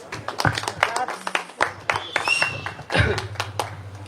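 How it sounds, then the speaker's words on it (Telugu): Scattered handclaps ring out among voices talking nearby, sharp and uneven rather than a full sustained ovation. "క్లాప్స్."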